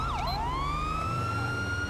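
Police car siren in Grand Theft Auto 5 wails loud and steady, sweeping down then holding a rising tone alone, with a low engine rumble underneath.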